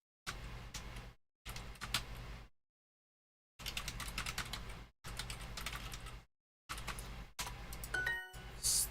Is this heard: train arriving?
no